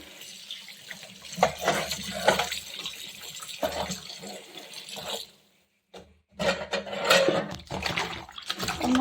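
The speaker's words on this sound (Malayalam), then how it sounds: "നമ്മൾ നല്ലതായിട്ട് വെള്ളത്തിട്ട് ഉടച്ച് കഴുകണം" Water being swished and splashed while vegetables are rubbed and washed by hand, a close, fluctuating running-water sound with a brief pause before the washing resumes.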